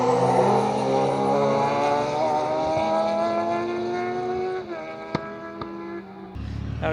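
Kit car with a motorbike engine, compared to a big-powered MX-5 turbo, revving hard and stepping up through its gears, loud and close with rising harmonic pitch before a brief lift near the end.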